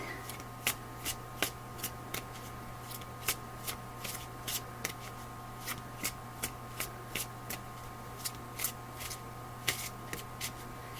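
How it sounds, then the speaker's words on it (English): Wisdom of the Trees oracle cards shuffled by hand, a steady run of crisp riffling snaps repeating about once a second over a quiet background hum. "Now I'm going to pull just one Wisdom of the Trees Oracle for you"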